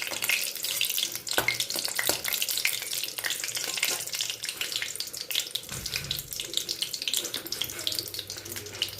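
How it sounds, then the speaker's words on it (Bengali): Dried red chillies and black cumin seeds sizzle in hot oil in a pan, a steady bright crackling hiss with occasional sharp pops and stirring clatter, close and continuous. "এটা একটু সামান্য ভাজা হতে দেবো।"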